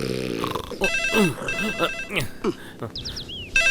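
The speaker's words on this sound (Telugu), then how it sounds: "ఆ ఫోన్ కొంచెం తీవయ్యా" A telephone rings with repeated electronic bell tones while voices talk over it in a police station scene.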